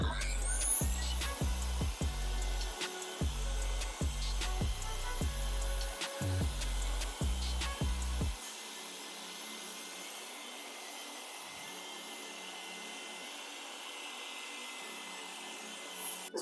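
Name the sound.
dual action polisher correcting car paint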